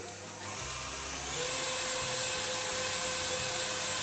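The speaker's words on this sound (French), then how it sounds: "On va fouetter à vitesse moyenne" Electric mixer whisking at medium speed while making a raspberry roll cake: a steady motor whir with a constant tone that rises a little in level after the first second, close and alone with no talking.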